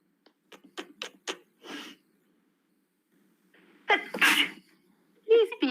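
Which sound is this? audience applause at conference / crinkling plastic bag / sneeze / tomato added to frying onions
sneeze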